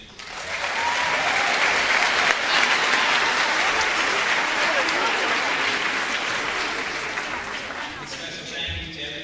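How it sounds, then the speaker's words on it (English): Sustained applause from a school spring concert audience fills the hall, rising quickly, holding steady and thinning toward the end, with scattered voices mixed in. "So I want to start with really a round of applause for all that they do."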